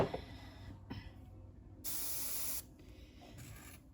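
Airbrush spraying Terminated Stone paint onto a miniature, a single steady burst of fine hiss lasting under a second, close up, amid quiet background clicks.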